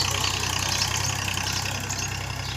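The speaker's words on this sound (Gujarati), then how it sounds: "આપણે જોવા માટે ટ્રેક્ટરનું ટ્રેક્ટર આવી ગયું છે" A tractor engine idles nearby with a steady, even low rumble that holds throughout, with no voices over it.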